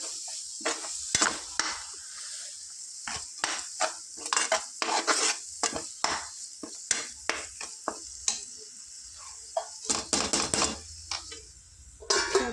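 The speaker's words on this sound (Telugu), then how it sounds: "ఒక ఫోర్ స్పూన్స్ కారం పొడి వేసుకుంటాను ఫ్రెండ్స్ ఒక వన్ స్పూన్ మసాలా వేసుకుంటాను బాగా కలుపుతున్నాం" Chili powder and masala are stirred in a frying pan for an egg curry. Repeated metallic scrapes and clinks of a spoon against the pan ring out in irregular bursts over a soft sizzle.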